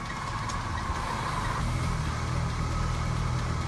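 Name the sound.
car driving on a small path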